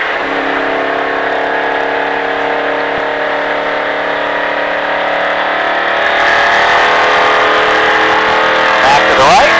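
NASCAR race car on a Las Vegas track, its engine droning loud and steady with a sustained harmonic whine that climbs as the throttle comes back on, rising further near the end.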